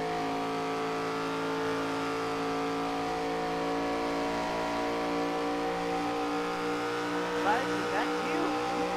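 An ARCA race car at Michigan accelerates at full throttle, a steady sustained engine drone with strong harmonics held at constant loudness throughout, fairly distant, with a brief rise near the end.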